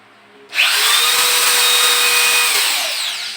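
A new Makita electric drill whirs to life after a brief quiet moment, running steadily at high speed and then winding down slightly, close and loud.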